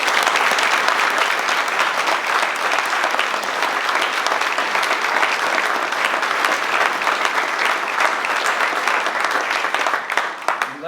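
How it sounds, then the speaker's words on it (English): Sustained, loud applause from an audience at a police chief's swearing-in ceremony, dense clapping running steadily for about ten seconds before tapering slightly at the end. "I'm going to give you a round of applause."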